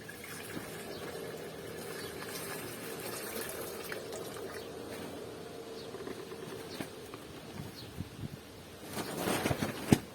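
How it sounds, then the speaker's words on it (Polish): Water is topped up into a 5-litre jug of yeast solution. A soft, steady pouring trickle runs under faint background birdsong and ends in a louder burst of splashing at the end. "teraz uzupełniam to wodą"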